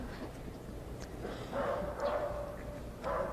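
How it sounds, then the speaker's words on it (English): A rescue dog barks and signals over a pile of collapsed metal and concrete after a 7.1 magnitude earthquake in Mexico City, giving short repeated yelps amid steady outdoor noise and distant bustle. "And the dog continues to signal."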